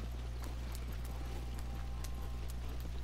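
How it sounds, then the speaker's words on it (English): A horse gallops at speed in the video game Red Dead Redemption 2, its hoofbeats a quick, steady clip-clop over a constant low rumble, close and continuous with no talk. "I wish my horse ran that fast in real life."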